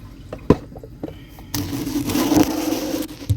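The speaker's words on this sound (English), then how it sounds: "And then just keep whisking as I'm pouring this in." Heavy cream is poured into a pot for homemade Alfredo sauce while a whisk keeps stirring. A few sharp clinks come first, then a steady liquid rush and scraping for the rest.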